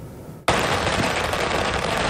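Dense, loud crackle of a long firecracker string bursting continuously at a launch ceremony for a new 700-ton deep-sea fishing boat, starting abruptly and rattling on without pause.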